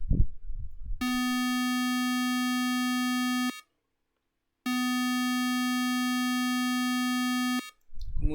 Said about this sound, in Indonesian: buzzer pun berbunyi